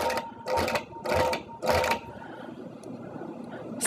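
A sewing machine stitches couching thread over an appliqué in four short, loud bursts of rapid stitching, then falls to a quiet hum with faint clicks.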